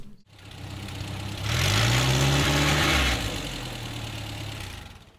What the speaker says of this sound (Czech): Motor je Škoda Octavia, asi z roku 1950.